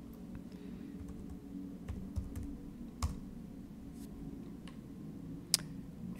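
Password keys tapped on a computer keyboard in a quiet room with a low hum, giving a light, irregular run of soft clicks with a few sharper taps.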